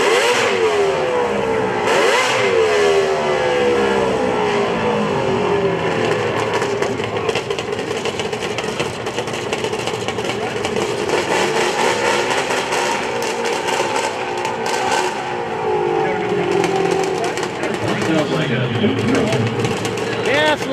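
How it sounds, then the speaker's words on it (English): Two-stroke race machine during Saturday qualifying at Grand Bend Motorplex, a loud buzzing engine revving and accelerating at length, pitch sweeping up through gears, with a commentator talking over it. "Definitely does sound like a two-stroke."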